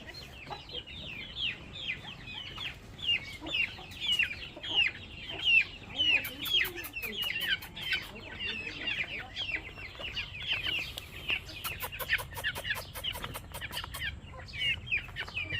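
A mother hen and her many chicks cluck and cheep in a busy, overlapping chorus, the chicks' high peeps coming in rapid bursts around the hen's lower clucks, close by, with occasional faint voices.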